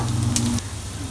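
Shallots sizzle and crackle steadily in hot oil in a pan while being prepared for fried rice, a dense continuous fry that eases slightly partway through, with no talking.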